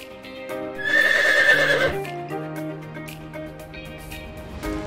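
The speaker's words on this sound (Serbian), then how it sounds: "Konj." A farm horse gives one loud, shrill whinny that fades into lower snorting tones, alongside a few light hoof clops.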